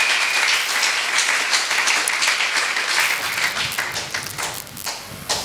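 A church congregation bursts into loud, sustained applause with dense clapping that fills the room, fading slightly toward the end.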